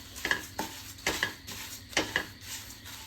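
Poha being stirred as it fries in a pan until crispy, for a poha mixture snack: a scraping spoon clatters against the metal in repeated strokes over a soft background sizzle, close and clear, with no talking.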